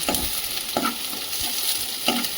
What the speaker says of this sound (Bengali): পেঁয়াজগুলিকে হালকা করে নাড়াচাড়া করে লাল লাল করে